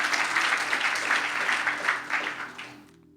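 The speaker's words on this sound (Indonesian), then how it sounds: "Tepuk tangan paling benar buat Tuhan Yesus." A church congregation at a worship service claps in a loud, full burst of applause that gradually fades out near the end.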